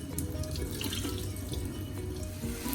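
Boiled macaroni is rinsed under a running kitchen tap, a continuous close hiss of water streaming into a sink with light splashing that stays steady throughout, with no voices.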